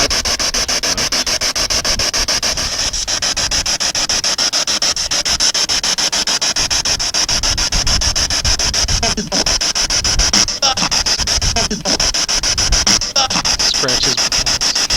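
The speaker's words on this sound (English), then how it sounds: "Scratches." Scratching and rubbing noises at a reported haunted site, Fort Fisher, run as a harsh continuous rasp over static, with a few sharper scrapes near the end and no talk.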